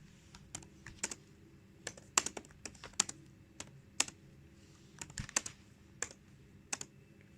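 Computer keyboard typing out code for a Java program with a MySQL database, a close run of quick, uneven key clicks in short bursts with brief pauses, no talking.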